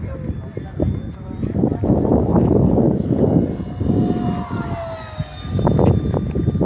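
An RC model jet plane makes a low pass at Aeroleste, its engine whining with rising and falling tonal lines over gusty wind noise, while people talk throughout.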